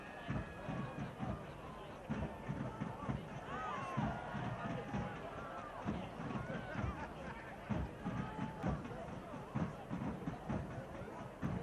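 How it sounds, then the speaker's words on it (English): Soccer fans cheer and murmur in the stands at a USL Championship playoff match between Charlotte Independence and Memphis 901 FC, a steady crowd roar with thumping bursts running throughout beneath a commentator's talk. "Nice crowd noise in the background."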